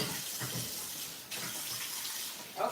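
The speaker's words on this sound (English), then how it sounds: "I gotta wash it out" Tap water runs steadily into a kitchen sink while a baking item is rinsed out, a soft continuous broadband hiss with a brief splash near the end, no talking.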